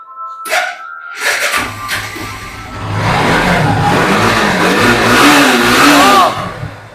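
A used BS4 motorcycle at a budget showroom near Kolkata starts with a few sharp bursts, then revs loud and close, its engine note rising and holding steady.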